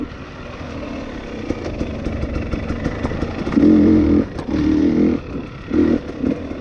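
A 2020 XC250tpi dirt bike engine lugs at low revs in third gear, a close, chugging rumble that swells in several throttle surges before easing back, with no talk.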